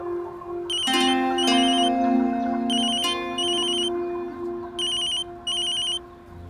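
A telephone rings with a bright, repeating electronic tone in bursts, loud and close, with a sustained musical background beneath and no talking.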